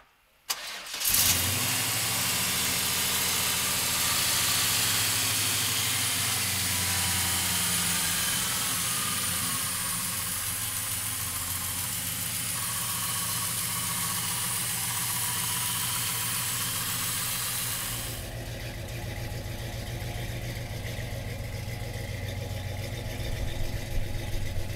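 A 1970 Chevrolet Chevelle cranks and catches with a sharp burst, then settles into a loud, steady, rumbling idle that continues close by for over twenty seconds, shifting slightly in tone partway through.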